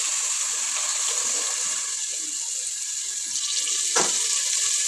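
Water pours steadily from a jug into rice for cooking bagara rice, giving a continuous close splashing stream that ends with a brief splash.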